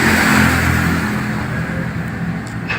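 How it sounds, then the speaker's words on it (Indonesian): A motorbike revs and rushes past on a nearby road, loud at first then fading away over a few seconds, followed by quieter street background. "Motor lewat-lewat itu."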